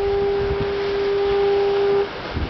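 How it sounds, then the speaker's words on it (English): A foghorn on the foggy Maine coast at East Boothbay gives one long, steady, loud blast of about two seconds that cuts off abruptly, leaving soft wind and surf ambience. "Foghorn."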